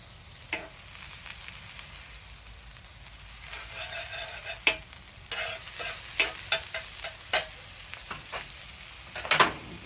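Butter sizzling in a hot pan while smashburgers are prepared, a steady soft frying hiss with scattered sharper crackles and pops that grow busier toward the end.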